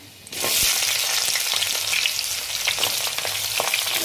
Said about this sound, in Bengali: রাঁধুনি দেওয়ার পরে এবারে সজনে ডাঁটাগুলো তুলে দিলাম